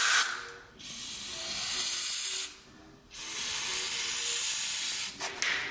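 A can of brake cleaner sprays in three long hissing bursts into the EGR valve of a 2007-2009 Sprinter, separated by short pauses, close and loud, with faint tonal hums underneath.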